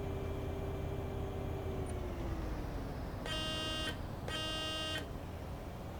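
A bus horn in Bus Simulator 18 beeps twice in quick succession, two clear sustained tones over a constant low engine rumble inside the game.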